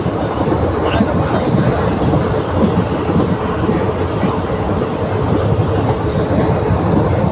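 Steady rumbling train noise rolling along on the rails between Dindigul and Udumalaipettai, a continuous dense roar with faint rhythmic clatter throughout.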